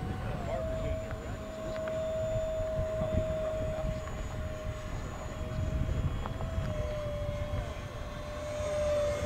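A small model jet with a 50mm electric ducted fan, powered by a 1300mAh 4S LiPo pack, flies overhead with a thin, steady whine that rises and falls slightly over a windy outdoor background while people talk nearby.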